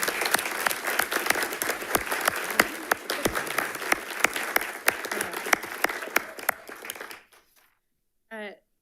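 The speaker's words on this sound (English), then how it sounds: "We're going to give her a huge round of applause." Audience at a school district board meeting applauds a teacher honored for passing national boards, steady dense clapping for about seven seconds before cutting off, then a brief burst of voices.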